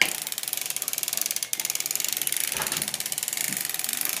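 A hand-cranked sock knitting machine clatters as it is cranked forward with the yarn tension set too tight, producing a fast, even stream of close mechanical clicks that continues without a break.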